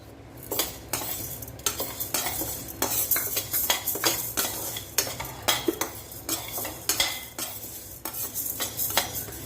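Urad dal roasts dry in a pan while a metal spoon stirs it. Frequent scraping clinks and taps come in an irregular rhythm over a faint background hiss, with no talking.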